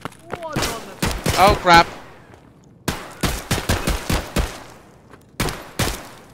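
Gunfire in the video game Escape from Tarkov: several clusters of sharp, loud shots in quick bursts with short gaps between, close up, with a player briefly speaking.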